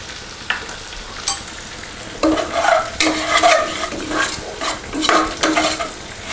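Garam masala and black pepper being stirred in a hot pan for Kerala chicken dum biryani, with a scraping spoon working through sizzling spiced oil in uneven bursts that grow busier partway through, no voices.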